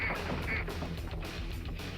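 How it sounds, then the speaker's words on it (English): Cartoonish duck quacks and honks from the Rampage World Tour video game, repeated a few times over a steady background of game sound and music. "honks in. 5 honks. Your quacks."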